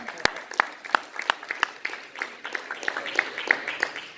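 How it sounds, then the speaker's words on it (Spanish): A church congregation claps in praise, with sparse, distinct hand claps in an uneven rhythm and a voice audible beneath them. "Denle un aplauso al Señor"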